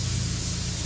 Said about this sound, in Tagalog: Kailangan po i-spray out nyo guys para makita nyo yung kulay na kung maganda ba o hindi